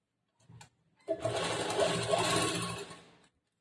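A sewing machine stitches the lining of a kurta in one short burst of close, steady whirring after a brief blip, with no speech.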